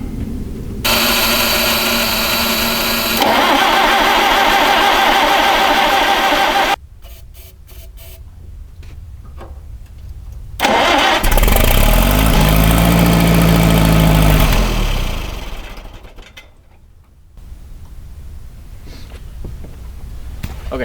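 Oliver 550 tractor engine at full choke and throttle with starting fluid, cranking and catching into a loud rough run that cuts out, followed by bursts of further cranking and a brief low roaring run.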